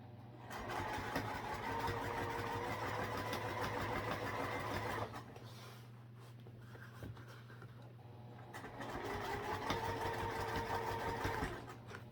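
A sewing machine stitching in two bursts of fast, even mechanical whirring, close and clear, with a short quieter pause between them.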